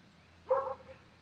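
A single distant dog bark from the neighborhood comes through briefly, soft and muffled against a quiet background.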